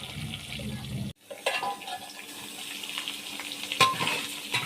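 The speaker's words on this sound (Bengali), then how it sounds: "এবার পটলগুলো এখানে হালকা ফ্রাই করে নেব" Pointed gourd (potol) frying lightly in mustard oil in a kadai, a continuous bubbling sizzle with stirring scrapes and a sharp clink near the end, close and moderately loud.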